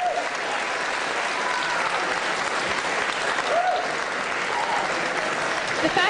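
A crowd at a student robot competition applauds and cheers for the winning team, dense continuous clapping with a few shouts, steady and fairly loud from start to finish.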